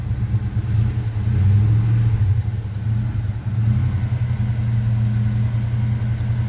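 A Chevy C10 truck engine, either a 1978 or a 1975 with its original motor, runs steadily after a cold start, a loud, close, low rumbling idle that holds for several seconds with slight surges.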